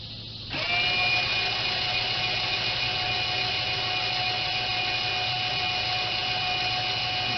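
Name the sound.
aircraft landing gear motor running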